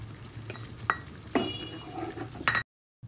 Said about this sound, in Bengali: সেটা বেটে নিয়েছি, সেটা এখন দিয়ে আবার একটু নাড়াচাড়া করে নেব